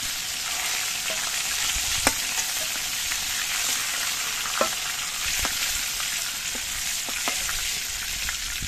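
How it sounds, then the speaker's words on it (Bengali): Pieces of rita sea fish fry in hot oil with a dense, continuous sizzle and scattered sharp pops and crackles, close and fairly loud, no voices. "এই একইভাবে কিন্তু আমি বাকি মাছের পিসগুলো ভেজে নিচ্ছি।"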